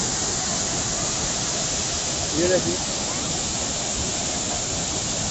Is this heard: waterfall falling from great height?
yes